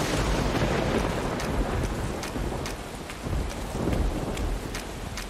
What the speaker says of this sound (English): This is like super extreme rain.